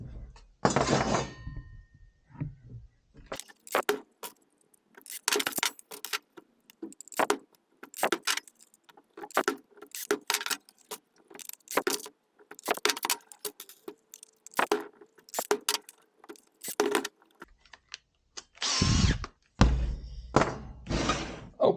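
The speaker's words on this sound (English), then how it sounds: "I'm going to put now in those screws" Screws being driven into a sheet metal segment bend, heard as many short, irregular metallic clicks, clinks and bursts of driver whirring over about twenty seconds, fairly close, with no talking.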